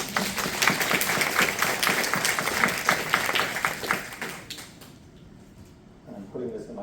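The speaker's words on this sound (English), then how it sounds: "let's clap for the League of Women Voters, please." Audience at a church Faith and Democracy gathering claps for the League of Women Voters, a dense burst of applause that fills the room for about four seconds, then fades out quickly into near quiet.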